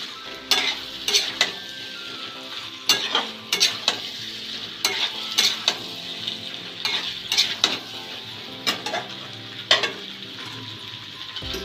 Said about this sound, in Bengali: আলুগুলো কিন্তু হাই ফ্লেমে ভাজছি এখনও